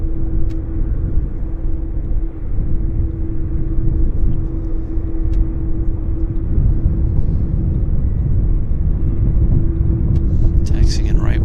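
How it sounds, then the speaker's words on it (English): Steady loud rumble of an airplane taxiing at Vancouver Airport, with a constant engine drone and wind buffeting heard close by outdoors, while a person talks over it. "Just taxiing in here."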